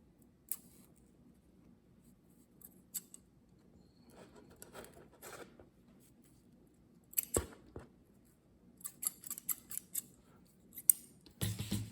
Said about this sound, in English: Now I will just cut end of the thread.